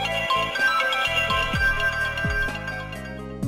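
A lost phone's ringtone plays loudly and continuously, a bright repeating melodic tune with steady electronic tones and no voices.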